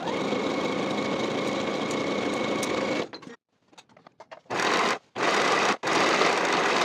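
A sewing machine running steadily as it stitches pant inseams with a half-inch seam allowance, a long continuous whir that stops, then resumes in two short bursts after a brief pause.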